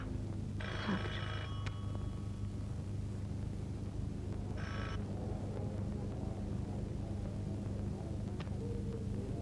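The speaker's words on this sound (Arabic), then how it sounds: "تليفون سعيد بيه" An old telephone bell rings in two short bursts over a low rumbling background, with faint voices around it.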